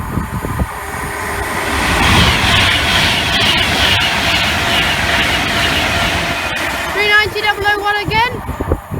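A Class 390 electric passenger train passes at Cheddington on the West Coast Main Line, a loud sustained rushing roar with wheel rumble. Near the end, rising and falling tonal whines and a steady tone appear as it goes by.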